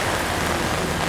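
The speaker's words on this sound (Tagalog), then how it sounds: "Ang lakas-lakas ng ulan." Heavy, steady rain pours down continuously near an open gate in Cavite during a spell of rainy days, a dense, even hiss that fills the whole moment without pause.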